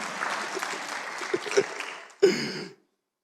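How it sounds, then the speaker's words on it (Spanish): Brief audience applause at a church congress, fairly faint and scattered, a short burst of clapping that swells then stops abruptly into silence. "Un aplauso a Javier."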